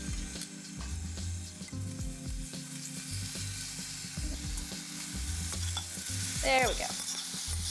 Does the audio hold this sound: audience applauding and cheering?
no